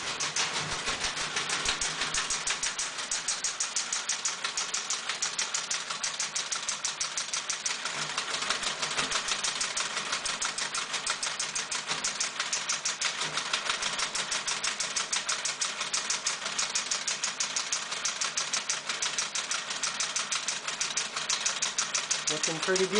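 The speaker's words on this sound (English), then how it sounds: "You can hear the machine start" A Kleinschmidt AN/FGC-25 teletype machine starts and runs with a steady, dense mechanical clatter of rapid repetitive typing strokes throughout, close and continuous at a constant level.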